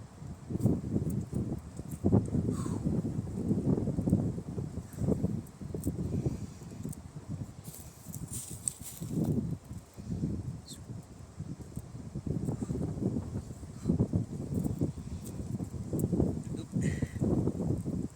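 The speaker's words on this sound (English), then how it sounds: "Very windy today," Strong gusts of wind buffet and rumble in uneven surges, with rustling in between.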